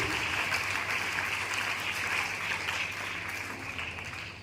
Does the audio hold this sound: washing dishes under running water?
no